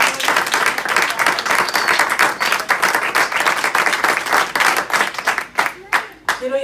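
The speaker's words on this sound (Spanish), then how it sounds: "Denle un aplauso al Señor" Church congregation clapping together in a lively, rhythmic burst of many hands, close and full, thinning out toward the end.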